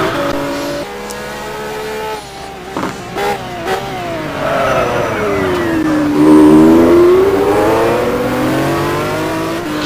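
A race car engine in a racing game at Suzuka, loud and up close, revving hard and blipping the throttle into a corner before pulling back up through the gears, with a tire squeal along the way.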